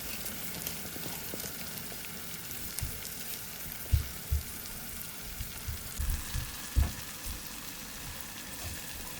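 Soaked rice with potato cooking in a pan, giving a steady soft sizzle with a few louder stirring knocks and scrapes scattered through; nobody speaks.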